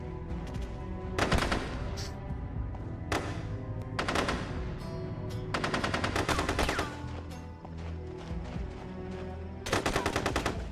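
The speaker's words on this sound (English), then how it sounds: "Why are you shooting me, pal?" Bursts of game gunfire from SOCOM U.S. Navy SEALs 3, loud rapid automatic volleys with several heavy clusters of shots separated by brief lulls of sustained rattling.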